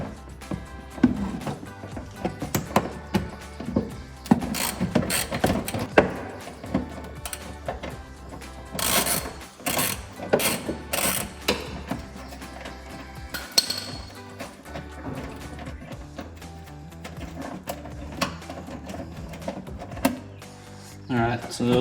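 Metal socket wrench clinks and ratchets while removing 10 mm and 7 mm bolts from a 2007-2014 Chevrolet Silverado 2500 headlight, sharp intermittent tool hits close by, with someone talking throughout.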